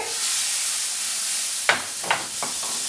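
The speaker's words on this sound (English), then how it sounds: "I'm going to be melting some butter" Butter melting in a hot pan, a soft steady sizzle broken by a few louder spits and crackles toward the end, close and without talk.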